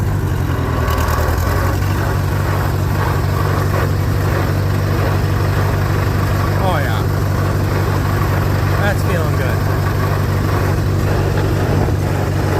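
Farmall H tractor engine running steadily as it is driven up through first, second and third gear and revved a little, a continuous low mechanical drone close by, with someone talking briefly over it.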